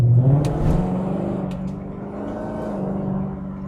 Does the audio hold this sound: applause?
no